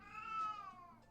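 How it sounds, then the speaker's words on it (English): A pet cat lets out a single drawn-out meow, faint and a little distant, sliding down in pitch in a quiet room with no talking. "You might hear my cat in the background."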